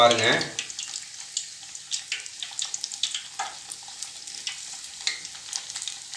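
Raw banana bajji fry in hot oil in a kadai, a steady crackling sizzle with dense bubbling pops that carry on throughout after a brief opening burst.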